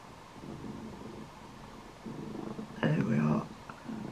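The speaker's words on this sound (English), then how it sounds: "It's more like purring snoring." A pet cat gives a soft, rumbling purr mixed with snoring, rising and falling in slow breaths, faint and close, with one louder rough stretch near the end.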